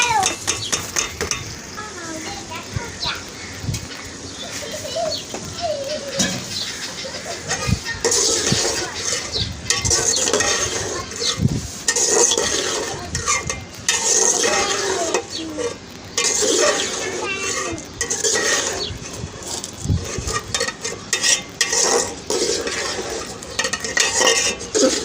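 Taro (arbi) sizzles in hot oil in a pan while a metal spoon scrapes and stirs, producing loud, close frying crackle with repeated clinks and scrapes and occasional talk over it.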